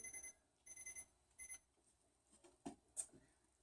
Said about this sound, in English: My alarm goes off a little bit.